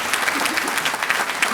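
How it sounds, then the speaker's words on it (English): A banquet audience gives a standing round of applause, thick continuous clapping close and loud throughout the brief moment, a few voices faintly audible within it. "if we could all give these folks a round of applause"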